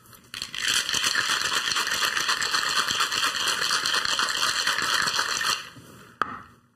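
Ice rattles hard inside a cocktail shaker for a martini, a loud steady churning shake lasting several seconds close up, then stopping with a final knock.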